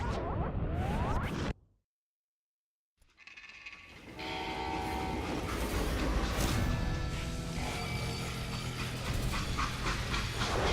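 Train in the Western shooter game Call of Juarez: Gunslinger, a loud rumbling rail rush with horn-like tones, cut by a brief silence before the rolling clatter builds back and continues steadily.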